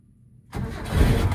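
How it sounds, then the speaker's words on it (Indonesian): A 1982 Suzuki Jimny 4x4 engine cranks and catches after a half-second of near silence, then settles into a loud, close, rough idle. "engine on"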